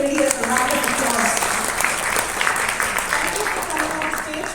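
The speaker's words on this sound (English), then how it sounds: "Please give the lady a round of applause." An audience at a festive December stage event claps for a woman on stage, giving steady, fairly close applause that holds throughout, with a voice speaking briefly at the start.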